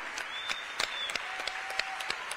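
An audience at a pride gala claps steadily, a dense patter of many hands with a few sharper close claps, under faint background voices.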